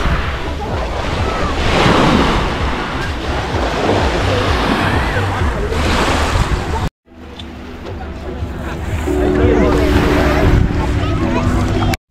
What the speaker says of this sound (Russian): Видите, мелкая волна?